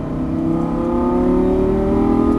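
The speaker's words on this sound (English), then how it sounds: "Start squeezing on the throttle now on our straightaway." A Lamborghini Gallardo LP550 engine pulls hard on a track straightaway, its loud, close tone climbing steadily in pitch as the throttle is squeezed, with no pause or shift break.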